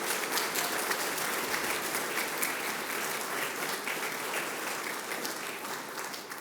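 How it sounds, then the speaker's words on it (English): Sustained applause from an audience at the Bendigo Law Courts opening event, a steady dense wash of many hands clapping throughout, moderately loud and evenly maintained without talk. "Can we please give Raquel and all the other artists a big round of applause"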